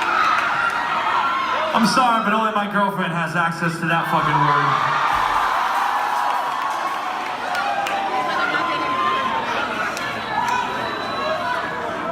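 Crowd at a metal concert whooping, cheering and shouting, loud and dense around someone speaking over a microphone, then settling into a continuous roar of chatter.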